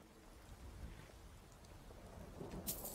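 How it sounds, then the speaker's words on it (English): Steady rain falls in the fantasy video game Skyrim, a soft continuous hiss and patter that holds at an even level for the whole stretch, with a faint low rumble underneath and no voices. "Why is it always raining?"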